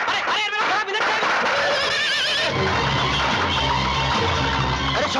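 A horse pulling a tonga neighs loudly and close, its whinny rising over a busy street scene with firecrackers set off by children, over a continuous background bed.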